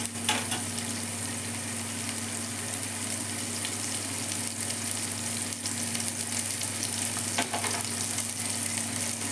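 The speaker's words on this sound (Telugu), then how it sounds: "మంచిగా ఫ్రై అవుతుంది." Cluster beans fry in a pan with a steady, dense sizzle that holds evenly for the whole stretch, close and fairly loud, with a few faint stirring scrapes and no voices.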